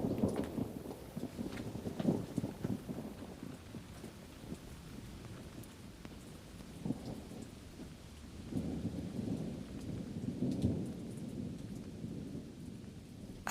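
A rain shower with a thunderstorm, steady rainfall hissing throughout with low rolling rumbles of thunder swelling and fading, fairly distant and moderately quiet, no talk.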